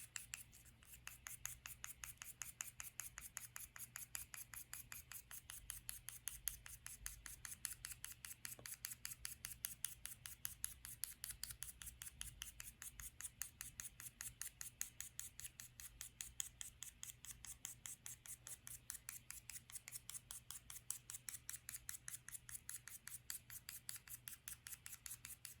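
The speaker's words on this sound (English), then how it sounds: "Then use a finger to rub the pastel over the paper." A finger rubs soft pastel across ivory paper in a steady, quiet, rapid rasping rhythm of short strokes that continues throughout, with no talking.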